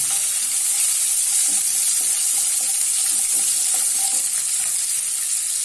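Green chillies fry in hot oil with a pinch of salt, a loud, steady, close hiss and sizzle with faint stirring clicks underneath and no talk.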